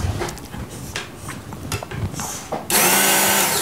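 A Work Sharp Knife & Tool Sharpener is plugged back in after a few clicks and handling noises, and its motor switches on with a loud, steady whirring hum that continues to the end.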